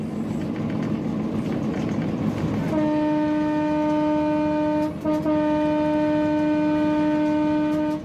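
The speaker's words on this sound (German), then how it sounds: "Unser Lokführer jedenfalls bleibt entspannt auf den etwas holprigen Gleisen." An Indian-built 1300 hp diesel locomotive rumbling over bumpy tracks in Myanmar, heard from on board as a steady loud roar, then a long sustained horn blast that continues through the end with a brief break.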